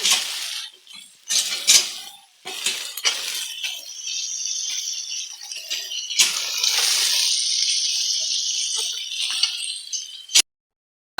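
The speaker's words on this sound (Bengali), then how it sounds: "মশলার সঙ্গে ভালো করে এটা মিশিয়ে নিব।" Carrots, potatoes and peas being stirred into fried spice paste in a pan, a spoon scraping and clinking against the metal in irregular bursts with a steady sizzle between, close up.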